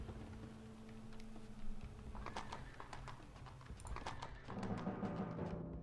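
Horses in the real-time strategy game Rise of Nations: steady clip-clop hoofbeats with an occasional whinny, soft and continuous beneath a commentator's voice.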